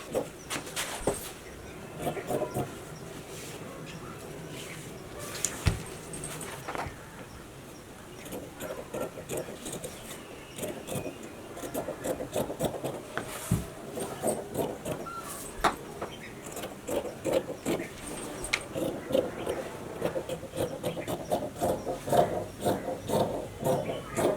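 Blouse fabric is cut out for a single-dart blouse pattern, giving faint, repeated rasping snips and rubbing sounds at an uneven pace, close by with no talk.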